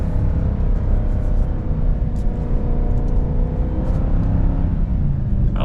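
A Ford Super Duty Tremor with the 7.3 litre gas V8 pulls a heavy load at high RPM, its engine holding a loud, steady droning roar with rumbling road noise throughout and no speech.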